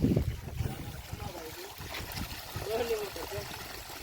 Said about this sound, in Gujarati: આ મોટર ચાલુ.